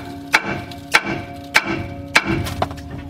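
Five sharp metallic hammer strikes on the side of a rusty rear wheel cylinder of a 1993 Ford F700 truck, evenly spaced about half a second apart, each ringing briefly.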